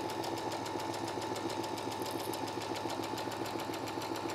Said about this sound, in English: So I'm still just sewing right on that line that I drew.